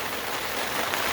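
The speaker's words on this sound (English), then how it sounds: "And as you can tell, it ain't just sprinkling, it is raining." Heavy rain pouring steadily outdoors, a dense, even hiss of drops hitting surfaces with no pauses, close and continuous.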